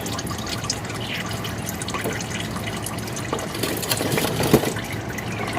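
Old engine oil drains from a 2018 Ford F150 3.5L EcoBoost, a continuous liquid trickle and dripping into a pan, steady and close with a few louder splashes near the end.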